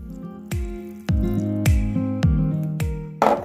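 Vinegar is poured into a bowl while mixing skinless longanisa, heard as a string of close, wet drips and splashes falling in an uneven rhythm, ending in a brief louder splash.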